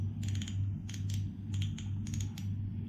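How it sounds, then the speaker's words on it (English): A Seaknight Treant II 1000H spinning reel's drag gives off quiet rapid clicks in short bursts, close up and heard alone. "I don't like the clicking sound of that drag."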